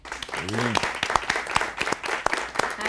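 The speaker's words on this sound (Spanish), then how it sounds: "un fuerte aplauso para ustedes." A studio audience claps for university communication students on a television program, sharp individual claps rising in an uneven patter, with a brief voice near the start.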